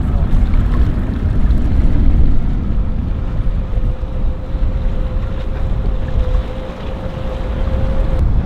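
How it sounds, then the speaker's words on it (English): A trolling motor on a bumper boat gives a thin, steady whine beneath loud wind buffeting and water noise, with no speech. "Looks like they got a trolling motor."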